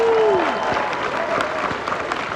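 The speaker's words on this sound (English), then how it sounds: "applause to you folks" A convention crowd at Megacon 2021 applauds steadily, with loud, full clapping and a whistle at the start that slides down and fades.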